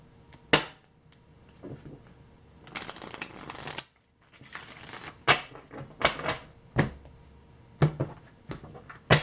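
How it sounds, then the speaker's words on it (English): Tarot cards being shuffled in several quick bursts, crisp riffling and snapping close by, with pauses and taps between rounds. "Let me shuffle one more time."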